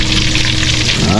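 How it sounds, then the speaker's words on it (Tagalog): Food frying, a loud steady crackling sizzle over a short moment, with a voice faintly underneath. "Piniprito."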